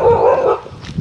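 A dog lets out a short, close bark with a whiny, yipping edge, one quick loud burst fading out within a second.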